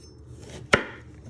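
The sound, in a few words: knife chopping parsnip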